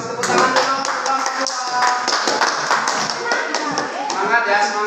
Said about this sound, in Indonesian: Silakan kelompok 2, kasih tepuk tangan dulu untuk kelompok